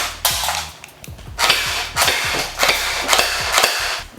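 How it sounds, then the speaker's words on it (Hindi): A PUBG-style fully automatic toy gun fires at small target toys in short rapid bursts of sharp plastic snaps, close and loud, with pauses between volleys. "चलिए हम इन इमेज टॉयज पर फायर टेस्ट करते हैं।"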